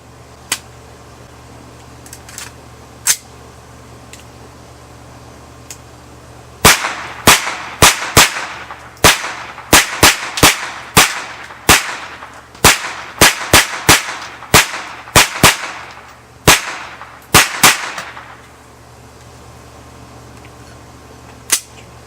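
A Sig Sauer MPX PCC 9mm carbine fires loud, sharp shots at an outdoor range. A few spaced shots are followed by a fast string of rapid fire that comes in close bursts with brief echoing tails.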